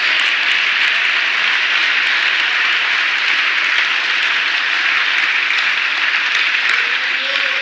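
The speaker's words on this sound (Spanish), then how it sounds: "Un aplauso para nuestro Dios." Loud, sustained applause from a church congregation fills the room, steady and dense for several seconds with no voice over it.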